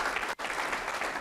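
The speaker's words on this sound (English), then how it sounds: "I think that deserves a hand clap" An audience at a 2023 State of the City Address claps in dense, sustained applause, briefly cut by a short dropout.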